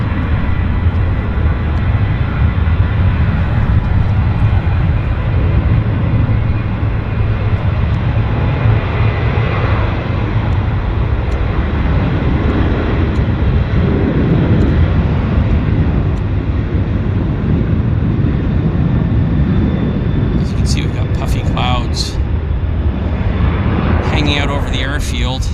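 An airplane roars down the runway and rotates on takeoff at Vancouver Airport, a loud, sustained engine rumble that holds steady throughout, with a few faint voices near the end.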